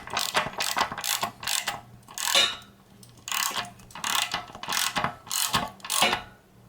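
A ratchet snugs a nut onto a bolt while a Gold's Gym XRS 20 home gym is being assembled, giving a close, steady series of clicking bursts in quick repeated strokes with brief pauses between them.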